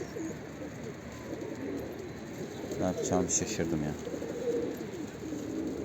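Pigeons cooing nearby in a bird loft, soft repeated coos with a brief flutter midway, under a man's quiet speech.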